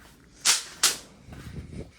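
A seven-shot New Year firecracker goes off outdoors, two sharp, loud cracks a third of a second apart followed by softer, duller rumbling pops.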